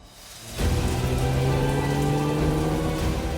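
Heavy rain suddenly starts and then pours steadily during a car rally stage in Brittany, a dense, loud hiss of drops drumming on surfaces.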